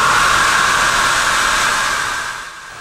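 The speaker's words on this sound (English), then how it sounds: "When you turn the blow dryer on, the wind that is produced lifts the ball upwards." A blow dryer running steadily, blowing air to hold up a ping pong ball: a loud, close, continuous whooshing hiss with a whine that eases off slightly toward the end, with no voices.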